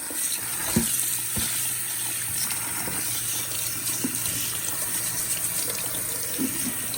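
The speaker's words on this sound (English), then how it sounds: "I'm gonna wash my rice." Rice being washed under a steadily running kitchen tap, water splashing continuously into a sink or bowl with occasional knocks and stirring sounds close by, no voices.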